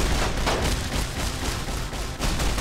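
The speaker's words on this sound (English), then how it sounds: "I think the explosions are killing all the good guys." Battle in Fallout New Vegas: a dense, continuous barrage of gunfire and booming explosions, loud and close, with rapid overlapping shots and no talking.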